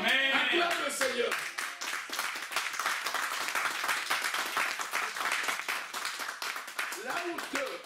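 A church congregation applauding, steady clapping that fills the whole stretch with a voice or singing heard at the start and end.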